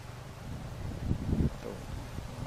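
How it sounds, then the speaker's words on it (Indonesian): Strong wind blows at a riverside fishing spot as a steady low rumbling roar buffeting the microphone, swelling into a louder gust midway, with no talk. "Angin gede"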